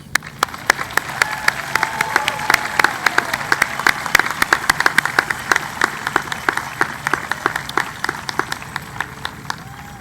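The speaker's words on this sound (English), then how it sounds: "Let's give them a round of applause." A graduation ceremony audience applauds the Kinkaid School class of 2020, with dense, steady clapping and sharp individual claps standing out throughout.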